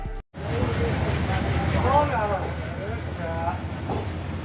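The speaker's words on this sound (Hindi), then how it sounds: "फाजिल्का पर 3 मिनट के होल्ड के बाद अब हमारी ट्रेन यहाँ से निकल चुकी है" The 14602 Hanumangarh–Firozpur Cantt Express pulling out of Fazilka Junction gives a steady low rolling rumble from the rails beneath someone speaking throughout.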